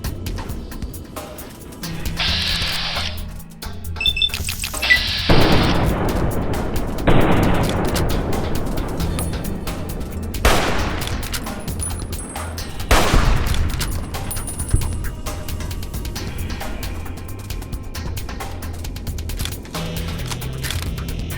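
Bursts of video game gunfire with incendiary rounds in Fallout New Vegas fighting through a tunnel, loud rapid volleys and booming shots in clusters, separated by short quieter gaps, close and harsh.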